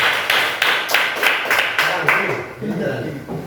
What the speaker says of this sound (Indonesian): Bapak guru yang nyanyi, kamu yang tepuk tangan.